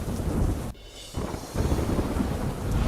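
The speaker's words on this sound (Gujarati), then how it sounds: "ભારે વરસાદ થતાં વિઝિબિલિટી ઘટી" Heavy rain pours down in Gir Somnath, Gujarat, a dense steady roar with a brief dip before it resumes at full strength.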